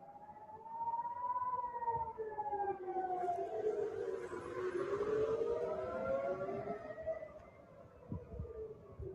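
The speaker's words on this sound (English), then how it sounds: "They have the sirens going off." Air raid sirens wail, rising and falling continuously during a ballistic missile attack from Iran on Israel, overlapping tones drifting in pitch, moderately distant and steady throughout with no voices.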